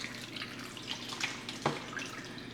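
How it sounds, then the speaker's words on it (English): Gravy mixture is poured over turkey wings for smothered Southern-style wings, giving a soft, close liquid splashing and trickling with a brief louder plop partway through. "I've got my gravy mixture here, and I'm going to be pouring it over"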